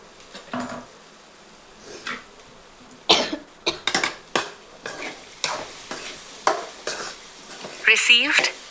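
Coriander leaves are stirred into pan-fried ridge gourd, a spatula scraping and clattering in a series of uneven strokes against the pan over a faint sizzle, with one brief cough near the end.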